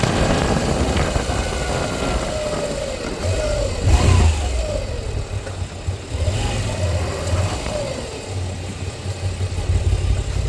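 A Moto Guzzi V85TT motorcycle revs while being ridden, its mid-pitched engine note rising and falling through several throttle swells with loud, continuous exhaust and wind noise close by.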